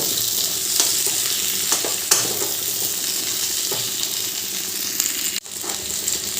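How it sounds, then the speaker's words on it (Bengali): Vegetables and drumstick stalks for shukto fry in a pan with a steady, dense sizzle, while a few sharp clinks and scrapes of stirring cut through; no voices. "এবার সব সবজিগুলো আবার একটু ভালো করে ভেজে নেব"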